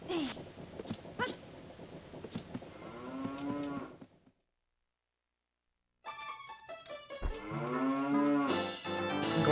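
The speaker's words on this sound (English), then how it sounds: "Why does someone have a cow in their house?" A cow in a house in the video game Zelda: Ocarina of Time lets out long drawn-out moos, one sound, then silence, then a louder, fuller moo with game music and effects around it.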